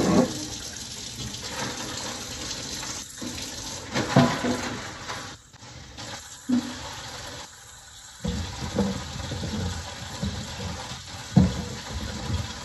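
A sink tap runs steadily while items are washed, a continuous watery rush with brief dips and small clunks and splashes of objects being handled, moderately loud with no talk.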